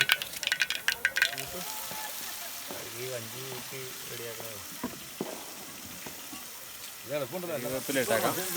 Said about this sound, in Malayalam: സവോളയും കുറച്ച് തക്കാളി വെളുത്തുള്ളി ഇഞ്ചി എല്ലാം കൂടെ ഇട്ട് നമ്മളൊന്ന് വഴറ്റി വഴറ്റി ഒന്ന്